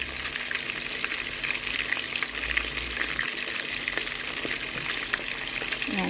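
Chicken pieces frying in hot oil until golden brown for sweet and sour chicken, giving a steady, dense sizzle and crackle that runs unbroken throughout, close and fairly loud, with no talking.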